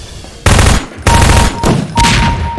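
Gunfire from a weapon in a Half-Life parody shooter game, loud bursts of rapid shots in three separate volleys with brief gaps between them, no voices.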